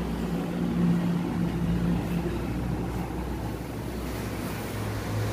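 Rice grinding machine from Sun Agro with a two-horsepower power-saver motor, running as a steady low hum and whir with a broadband rushing noise, fairly faint and unbroken with no talk.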